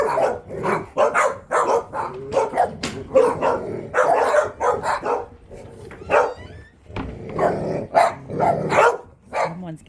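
A dog barks repeatedly in rapid, loud bursts, mixed with low growls and yips, the agitated barking filling the whole stretch close by.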